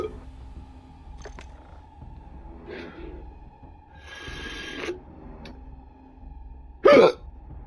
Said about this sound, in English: I got the hiccups now.